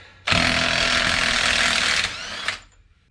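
An older pneumatic impact wrench hammers on the unit bearing bolts of a Jeep JK axle, a loud continuous rattling burst of about two seconds, then a brief second blip, close up with no talk.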